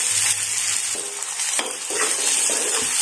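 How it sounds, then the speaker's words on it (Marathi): Finely chopped onion sautéed in a pan for samosa filling gives a loud, continuous sizzle with scattered scraping and stirring knocks from the spoon, close up and without talk. "बारीक चिरलेला कांदा, याला थोडंसं लालसर होऊ द्यायचं,"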